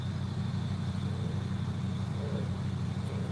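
A truck engine idling nearby while nunchucks are carved from wood, a steady low rumbling drone that holds evenly throughout with no talking.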